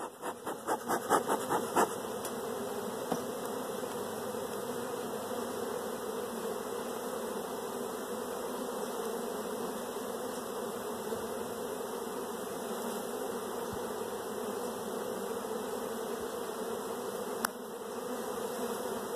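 Honeybees buzzing around an open hive during a spring brood inspection, a dense, steady close-up hum of many bees with a few louder knocks at the start.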